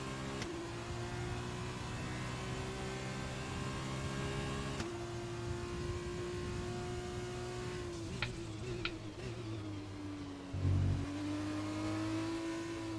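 An F2 race car engine in a wet-weather racing video game drones steadily throughout, holding a loud, continuous note with slight pitch dips and a brief surge near the end.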